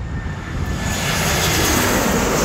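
An airplane passes overhead along a route back toward Shilin, its steady engine roar loud and continuous throughout with broadband rumble, no voices over it.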